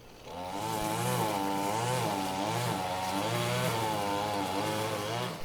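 A single-cylinder two-stroke engine, chainsaw-like, cuts through overgrown vegetation, droning loudly and steadily up close with wavering revs rising and falling throughout, alone without voices.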